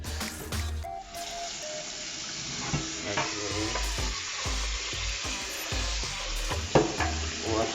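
Goat meat sizzles steadily in a pot, a close, continuous frying hiss with scattered clinks and knocks of utensils on top.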